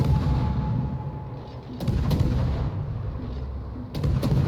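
Naval gunfire aimed at the Conqueror battleship in World of Warships, a few sharp booming salvos breaking through a steady low rumble of sea and engine noise, with no voices.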